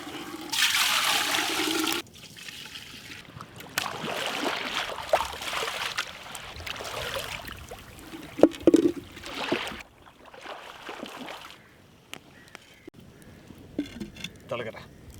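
Water splashes into a new pot for a traditional sunda kanji rice drink, a loud gushing pour at the start, followed by quieter clatter and intermittent talking.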